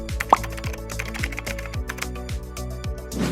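Rapid typing on an iPad keyboard accessory, a steady run of close, crisp key clicks and taps with a few louder strokes, alone with no voices.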